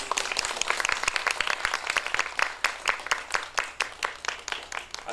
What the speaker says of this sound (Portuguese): Então agora salva de palmas para vocês.